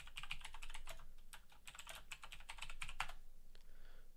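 Rapid typing on a computer keyboard, a steady run of close, crisp key clicks with a few louder strokes and a brief pause near the end, no voices.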